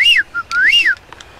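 A male blue-footed booby on North Seymour in the Galapagos gives two loud, close, rising-and-falling whistles in quick succession, followed by faint softer notes.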